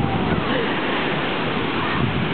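Waves washing onto the shore at Santa Monica beach, a steady broadband wash of surf close to the microphone with wind noise, continuous throughout.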